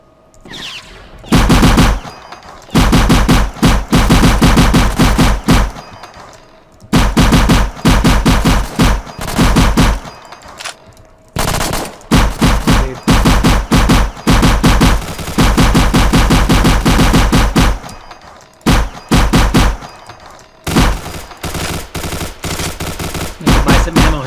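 Loud, sustained bursts of automatic gunfire from the space combat game Cosmic War Tycoon, rattling in long volleys broken by short pauses, with no talking over it.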